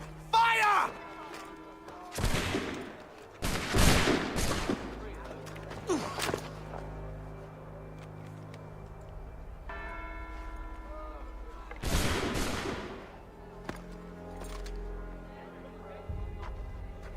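Heavy booming blasts from a musket volley and cannon fire in Assassin's Creed III come in several loud bursts spread apart, separated by low rumble, with people talking in between.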